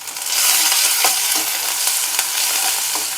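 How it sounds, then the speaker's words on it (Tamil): Chopped onion and garlic with curry leaves sizzle steadily in hot oil, a loud continuous frying hiss broken by a few clicks of a spoon stirring the pan. "இப்போ நம்ம கட் பண்ணி வச்சுருக்கிற வெங்காயத்தையும் பூண்டையும் சேர்த்துடலாம். அதில் கருவேப்பிலை சேர்த்து நல்லா வதக்கி விட்டுடலாம்."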